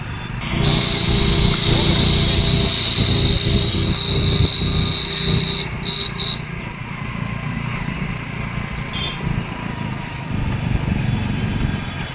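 A motorcycle labors uphill in first gear on a steep road in Himachal Pradesh, its engine droning loud and steady throughout, close by, with wind noise layered over it.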